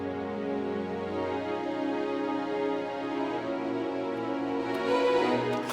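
Yamaha Montage M synthesizer playing its Worship Center pad preset with no treatment, a sustained lush chord with bright upper harmonics that shifts gently partway through, solo and steady with no voices.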